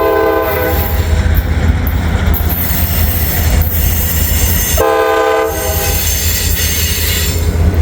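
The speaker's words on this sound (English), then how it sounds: "Yeah, it's got the caboose at least." A freight train with a caboose rumbles past close by on old B&O and Pennsy lines, blasting its horn repeatedly over loud clattering wheels and squealing steel.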